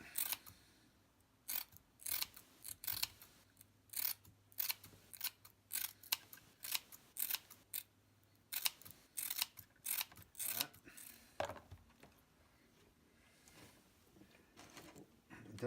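Regular fiberglass matting having its edge shaved: a series of sharp, crisp snipping or scraping strokes in irregular bursts, close and fairly clear, with brief pauses between cuts and no talking.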